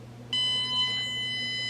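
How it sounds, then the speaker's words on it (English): A K9 Mint bark collar emits a single sustained electronic beep, a clear tonal bleep starting abruptly and holding for over a second over a low background hum. "So if you blow once, it will beep and you know that it's working."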